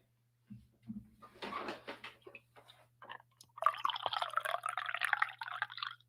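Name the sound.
pouring coffee into a cup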